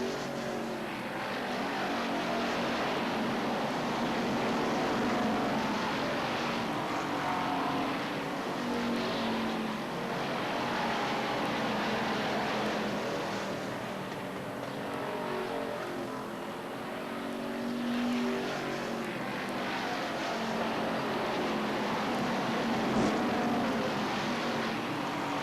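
Race cars lap Beech Ridge Motor Speedway in 1993 during weekly racing, their engines a continuous rumbling roar that swells and fades as the pack circles the track, steady and somewhat distant throughout.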